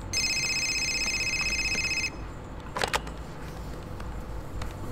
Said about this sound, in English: People always call on my phone.